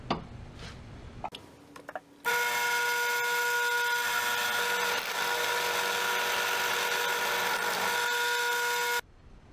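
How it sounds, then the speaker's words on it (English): A power drill bores through a gear and shaft on a 15-inch planer during a mechanical repair, starting after a few clicks and handling noises and then whining loud and steady for about seven seconds before stopping. "and now I'm going to drill through."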